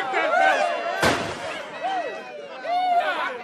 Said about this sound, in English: I won't have your drunken men shooting off their guns around my house.